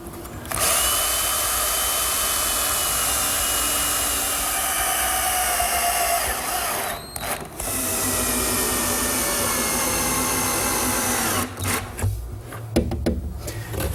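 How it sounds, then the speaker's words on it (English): A power drill drives screws into a toe kick piece of a laundry center cabinet, whirring loud and close in one long continuous run with a couple of brief pauses near the end. "once again I'll use some more screws to attach it."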